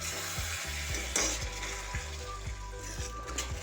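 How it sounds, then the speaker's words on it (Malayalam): Kerala-style beef pepper roast stirred in a hot pan, a steady loud sizzle with regular scraping strokes of the spoon roughly every half second, close up and without talking. "ഇനി നമുക്കിതൊന്നുകൂടെ മിക്സ് ചെയ്തെടുക്കാം."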